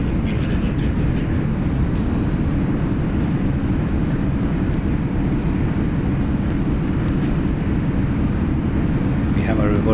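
Reverse thrust on a PMDG 777 landing in a flight simulator: a loud, continuous low engine roar with broad rushing noise, steady throughout and up close.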